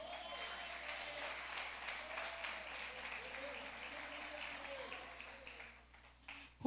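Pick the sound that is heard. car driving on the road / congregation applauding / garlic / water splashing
congregation applauding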